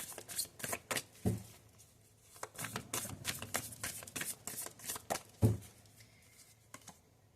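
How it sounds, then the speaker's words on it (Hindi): Tarot cards being shuffled by hand make quick, close riffling bursts and soft slaps in irregular clusters, with brief pauses between, and the sound fades near the end. "लास्ट शफल है ये।"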